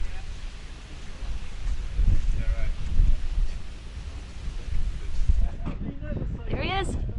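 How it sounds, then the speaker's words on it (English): Gusty wind on a mountain fell buffets the microphone with low rumbling bursts, while voices shout and cheer near the end. "it was just way too windy"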